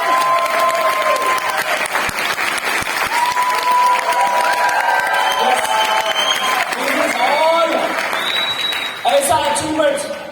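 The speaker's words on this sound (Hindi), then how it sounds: "जोर से, बढ़िया से ताली बजाएंगे।" A crowd at an anniversary celebration claps loudly and continuously with some cheering, while a voice speaks over the ovation and music-like tones run beneath it.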